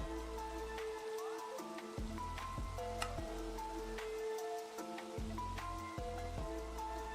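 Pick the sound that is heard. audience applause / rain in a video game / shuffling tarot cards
rain in a video game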